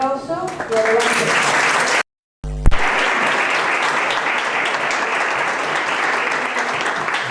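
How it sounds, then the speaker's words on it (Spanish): An audience at a Spiritist congress claps steadily to welcome a speaker, a loud, sustained round of applause briefly cut by a moment of silence, with a voice heard at the start. "te recibimos con este fuerte aplauso y adelante"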